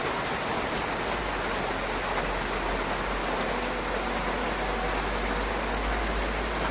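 The first rain of the year falls steadily on garden plants and ixora shrubs, a constant dense hiss of drops on leaves with no break.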